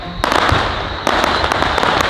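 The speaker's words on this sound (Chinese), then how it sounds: "旁边在放烟火。" Fireworks go off right beside a City God temple at night: a dense, loud crackle of pops and bursts that jumps in intensity partway through and keeps rattling without pause.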